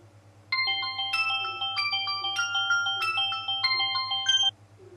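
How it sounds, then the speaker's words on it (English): A mobile phone plays a bright, melodic electronic ringtone, repeating its tune for several seconds over a faint low hum, then stops abruptly. "And then my mobile phone was ringing."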